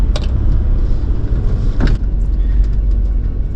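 A vehicle creeps down a steep slickrock fin descent near Moab in manual first gear, its low engine rumble steady and close, with a few brief clunks and rattles over the rock.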